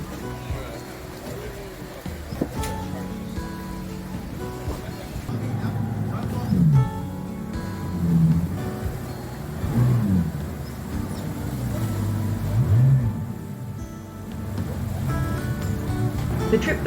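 Speedboat heading back to Phuket through the rain, a loud steady engine drone with rising and falling surges as the hull rides swells, plus rushing wind and water.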